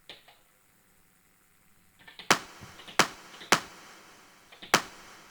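Four sharp, dry clap hits from a Tonverk sample played back on a Digitakt. They land as distinct bursts at an uneven, sparse pace after a near-silent start.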